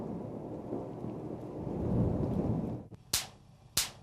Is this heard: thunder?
yes